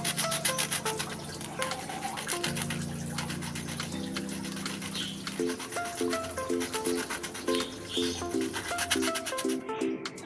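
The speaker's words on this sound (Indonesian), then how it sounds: "Ujungnya setelah digergaji dihamplas terlebih dahulu agar lebih halus." Sandpaper scrubs the rough, freshly sawn end of PVC pipe in quick repetitive strokes, a close brushing rasp layered over continuous background music.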